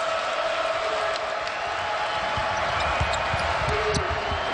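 Basketball crowd inside the arena at a Maryland at Wisconsin college game, a steady, loud roar of many voices with sneaker squeaks and ball thumps scattered through.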